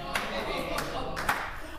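A studio audience applauds in a TV talk show studio, a dense steady clapping at moderate volume with a few louder sharp claps standing out.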